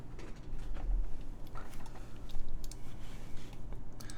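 Keys clacking steadily on a Hammerworks FMJ TKL mechanical keyboard built on a 1.6mm PCB, a dense run of close, moderately loud clicks with no talk.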